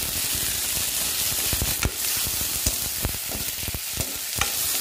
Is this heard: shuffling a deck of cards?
no